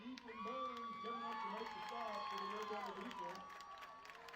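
A crowd cheers and claps at a junior high football game, Atkins Jr High against Quitman. The broad roar sits in the background under a steady announcer's voice.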